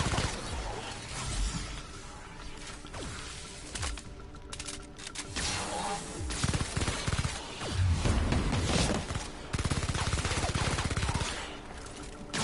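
Sustained automatic gunfire in The Outer Worlds during a prison break, dense rapid bursts running almost the whole time, loud and close, with a brief lull before heavier firing resumes.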